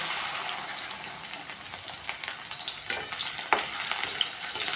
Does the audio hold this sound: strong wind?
no